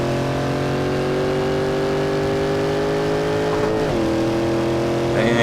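A Shelby Cobra's engine drones loud and steady in Assetto Corsa, holding a sustained tone as the car accelerates out of a corner, with a brief pitch dip partway through and no talk.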